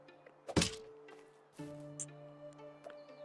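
A wooden fence piece in Medieval Dynasty being knocked apart, a solid thunk with a crack, then a second hollow knock followed by a resonant ringing tone and small ticks.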